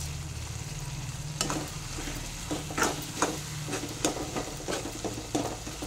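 Curry leaves dropped into a sizzling pan of fish curry made with bommidi fish, a soft continuous sizzle with several sharp stirring scrapes and taps close by.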